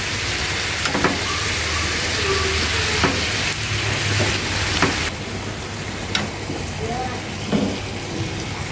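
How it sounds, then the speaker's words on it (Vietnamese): Bean sprouts stir-fry in a full pan, a steady close sizzle broken by repeated scraping and tossing clatters from the spatula. "Giá Linh xào nãy giờ nó cũng đã chín rồi nè."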